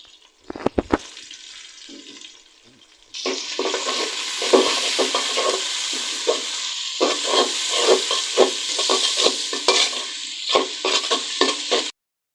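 Onion fries in hot oil with cinnamon, cardamom, cloves, dried chillies and bay leaves, a loud close sizzle broken by frequent rhythmic scraping stirs after a brief clatter and a quiet pause.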